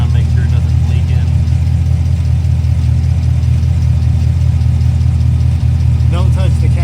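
A 2021 Camaro SS engine idles steadily up close, a loud, continuous low rumble with an even throb that holds without revving, the car raised off the ground for an oil change.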